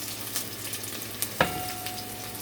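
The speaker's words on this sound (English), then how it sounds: "I'm just gonna let that, the onions and the scallion saute for a bit" Onions and scallion sautéing in a pan, with a steady close sizzle and a few light clinks of stirring, no voices.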